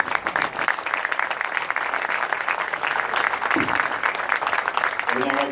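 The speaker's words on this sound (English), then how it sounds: "one more round of applause for all of our inductees this evening" An audience at a distinguished alumni evening gives a round of applause for the inductees, a full, continuous roar of clapping from a sizable crowd with scattered voices mixed in.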